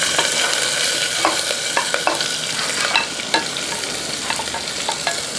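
Ginger, garlic and green chillies frying in masala inside a pressure cooker, a constant close sizzle broken by repeated scraping stirs of a spoon against the pot, no voices.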